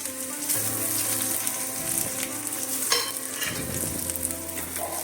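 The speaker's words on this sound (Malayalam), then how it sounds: "വെളിച്ചെണ്ണ ഒഴിച്ച് കടുക് പൊട്ടിച്ച് നമുക്ക് ചെറിയ ഉള്ളി ചേർത്ത് കൊടുക്കാം" Small shallots hit coconut oil with popped mustard seeds and set off a loud, close sizzle with crackles and spatula stirring scrapes throughout, no talking.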